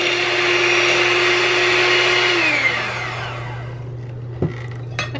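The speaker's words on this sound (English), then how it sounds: "I am going to cream my sugar and butter" An electric mixer creams brown sugar and butter for a coconut cake, a loud steady motor whir that winds down and stops midway, followed by a few light knocks in a quiet kitchen.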